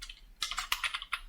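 Computer keyboard typing during web coding work: a short burst of quick, uneven clicks and taps, close and fairly faint, with no talking.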